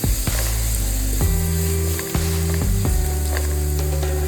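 Chopped onions sizzle loudly in hot oil in a pan for a spicy Bengali crab curry, with a continuous crackling hiss broken by a few knocks and scrapes of a utensil.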